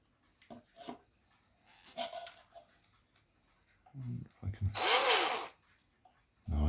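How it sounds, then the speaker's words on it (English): A small drill whirs in one loud burst of about a second while boring a hole in a plastic gin glass, preceded by quiet scattered clicks and handling noises. "So I'm going to drill a little hole at the top here to attach the rubber band."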